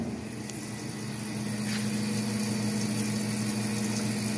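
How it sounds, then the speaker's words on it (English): A Langmuir Systems MR-1 CNC mill spindle running, a steady loud whirring hum with a constant tonal drone that holds evenly throughout. "So now the spindle is spinning."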